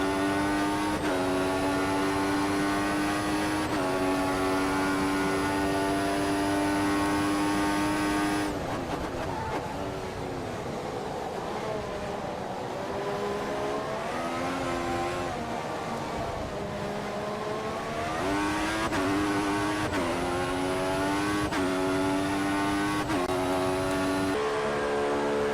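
Formula 1 race car engines in F1 2014 on PC at the Malaysia race, loud high-pitched revving that climbs and drops with gear changes, several cars passing close, continuous throughout with no talk.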